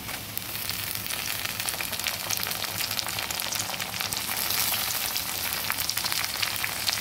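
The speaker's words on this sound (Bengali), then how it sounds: "সব কিছু একসঙ্গে ভেজে নিচ্ছি" Chopped tomato and onion fry together in a pan for a chicken curry, a steady dense sizzle with crackling pops throughout, close and continuous with no talking.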